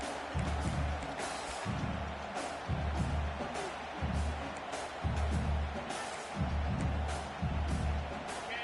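Crowd noise at a college football game between Auburn and Ole Miss, a steady distant roar filling the stadium, under a commentator's voice that comes and goes in bursts.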